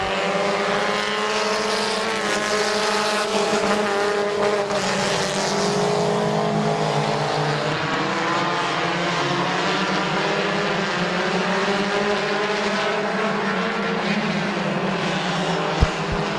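Compact race cars battling for the lead in a feature at Midvale Speedway, engines droning and whining loudly together in a continuous close roar throughout.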